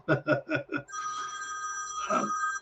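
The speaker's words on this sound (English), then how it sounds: "There's Mick on the phone, no doubt" A telephone rings in a home with a bright, steady electronic trill. It sounds fairly faint and follows a few short knocking thumps.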